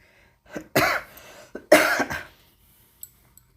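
Two harsh, close coughs from a woman with a cold, spaced about a second apart in an otherwise quiet kitchen.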